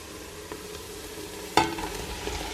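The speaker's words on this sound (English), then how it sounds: "I'm gonna first add the onions and the garlic. Just gonna let that simmer for a little bit." Onions and garlic simmer with water in a pan, giving a soft steady sizzle with a brief louder clack and hiss partway through.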